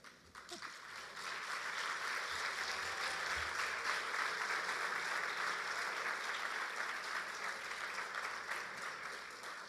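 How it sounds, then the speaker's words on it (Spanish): A church congregation at a Sunday service applauds steadily and loudly for nearly ten seconds, a dense wash of clapping that swells early and holds without pause. "Como ese aplauso para el Señor, que sea más fuerte."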